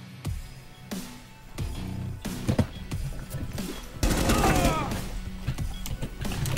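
Gunfire in the video game Rainbow Six Siege comes as sharp shots and bursts with crashes and clattering impacts, growing into a dense, loud volley near the end.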